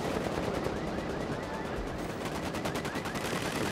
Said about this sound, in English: Someone's got the minigun.